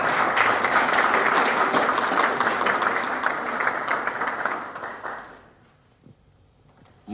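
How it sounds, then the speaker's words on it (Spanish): Audience applause at the inauguration of an exhibition, a dense sustained wash of clapping from a crowded room that swells for several seconds, then fades and dies away. "Démosles un aplauso"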